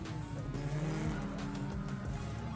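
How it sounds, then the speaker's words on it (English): Race cars rolling up toward the grid at Silverstone, engines droning with rising and falling pitch sweeps as they pass nearby, fairly loud over a steady mechanical roar with no voices. "So cars make their way up towards the grid"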